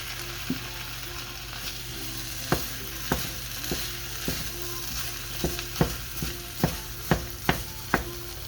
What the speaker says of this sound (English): Just gonna mix this all in the rest of the way